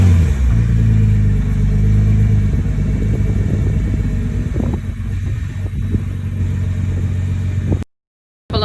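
Nissan GT-R with a stock mid-pipe exhaust, a loud deep engine rumble close by that holds a steady idle with some revving before cutting off abruptly near the end.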